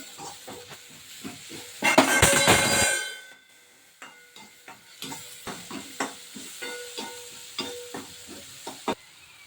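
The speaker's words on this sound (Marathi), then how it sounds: "आता मी त्यामध्ये लसूण आणि हिरवी मिरची परतून घेत आहे" Garlic and green chillies sauté in hot oil in a pan, a loud sizzling burst at first that settles into quieter frying with a steady series of spatula taps and scrapes, no voices.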